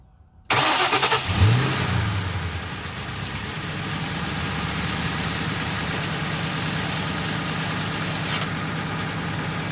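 A car engine cranks and starts, then settles into a steady idle that runs close and loud to the end; the car is having its AC compressor clutch checked.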